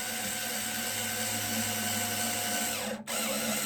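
Nylon string on a classical guitar being wound onto the tuner, a close steady whirring turn that runs continuously and cuts out for a moment near the end.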